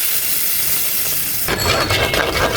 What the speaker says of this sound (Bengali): আমি এখন পরে কাঁচা জল দিয়ে দেবো